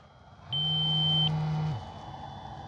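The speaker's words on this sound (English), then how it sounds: "That's our 5-minute timer, about ready to expire there." An electronic tone sounds from an RC plane's transmitter as its 5-minute flight timer nears expiry, a single sustained beep about a second long layered with a lower buzzing tone, clear and close.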